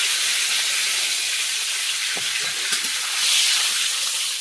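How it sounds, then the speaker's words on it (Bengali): Whole spices, peppercorns, cumin and bay leaf hitting hot oil, a loud, steady hissing sizzle close by with a few faint clinks, no voices. "গোটা গরম মশলা গোটা গোলমরিচ আর গোটা জিরে একটু তেজপাতা তেলে আর মশলাটা দেবো"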